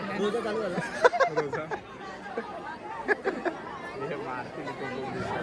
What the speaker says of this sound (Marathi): गर्दी खूप आहे इथे ए बाबा